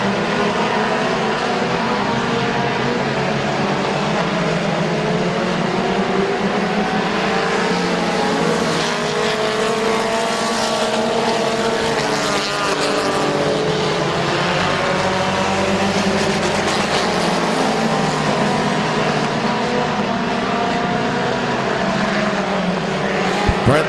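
Race cars roaring around Midvale Speedway during the 2016 Fall Classic, a continuous loud engine drone with pitch rising and falling as cars pass close by and pull away.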